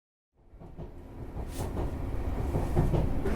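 A passenger train is in motion, heard from inside: a low, steady rumble fades in from silence and builds gradually, with faint rhythmic clatter of the wheels under the hum and no talking.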